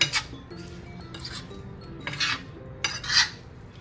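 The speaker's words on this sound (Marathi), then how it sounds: "आणि चांगलं मिक्स करून घ्यायचं" A spoon scraping and clinking against a steel bowl while amla pickle is mixed with spices, several rhythmic scraping strokes with metallic chinks, close and clear, no talk.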